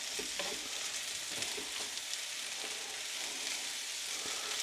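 Corned beef fries in a pan for corned beef hash, giving a steady close sizzle with scattered crackles and pops, and no voices.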